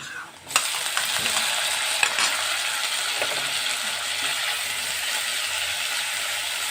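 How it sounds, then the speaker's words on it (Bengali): Chopped tomatoes added to fried onions crackle and hiss steadily in a pan, with a few sharp scraping clicks from stirring, close and loud with no talk, while palak paneer is cooked. "টমেটোগুলো আমি একটু নেড়ে নেব একটু নরম হয়ে যাওয়া পর্যন্ত"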